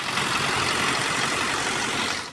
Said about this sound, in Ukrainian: За кермом трактора під пильним оком викладача обробляє землю